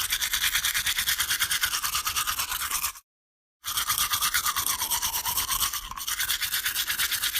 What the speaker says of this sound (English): This is a kid's toothbrush, so it's very basic, just bristles.